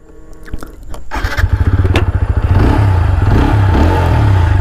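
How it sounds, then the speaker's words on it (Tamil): A TVS Apache RTR 160 4V motorcycle starts with a short cranking burst, then settles into a loud, close, steady idle with a rapid even engine beat, heard alone. "ஒரு நல்ல பீட் இருக்குங்க இந்த வண்டியில்."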